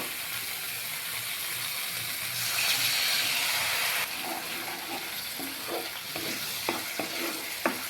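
Water poured into spiced masala frying in a pan for a rui fish curry sets off a loud burst of hissing sizzle lasting a couple of seconds. It then settles into a softer fry broken by clicking spoon strokes.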